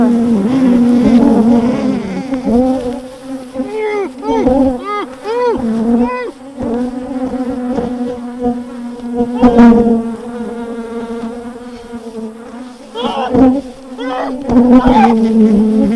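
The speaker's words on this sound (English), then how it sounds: "I got a couple bees inside here." Bees buzz close by, a steady drone with rising and falling pitches as several insects fly around nearby.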